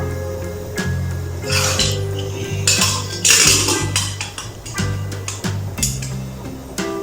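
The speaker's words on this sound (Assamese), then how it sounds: "প্ৰেছাৰ কুকাৰৰ ঢাকনিখন মাৰি দিব লাগিব।" A metal pressure cooker lid is closed in a kitchen during dosa and sambhar cooking, with clanks and scraping of metal on metal. Low rhythmic thuds and a faint hum run underneath, and no one speaks.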